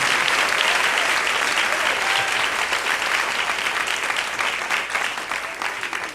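A church congregation claps together in a loud, sustained round of applause that fills the room steadily for several seconds before easing slightly at the end.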